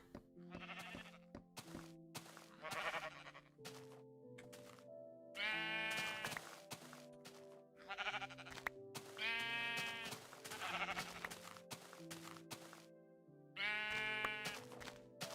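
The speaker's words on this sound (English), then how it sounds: "Oh, sheep!" Sheep in the Minecraft video game bleat repeatedly, quavering calls spaced a second or two apart, some overlapping, with soft thunks between them and no talking.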